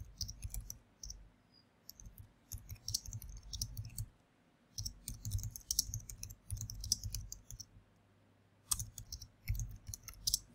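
Rapid bursts of clicks from typing on a computer keyboard, quiet and close, arriving in uneven runs separated by short pauses, with no talking over them.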